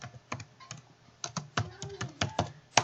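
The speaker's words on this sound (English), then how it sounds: "Type in gold heart." Quick, uneven clicking of keys on a computer keyboard, close and clear, in short irregular runs with no voices.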